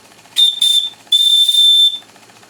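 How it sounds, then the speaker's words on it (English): The steam whistle on a PM Research model steam plant sounds three times: two quick shrill toots, then a longer sustained blast with breathy hiss, over a quiet background. "And we can hit the whistle again."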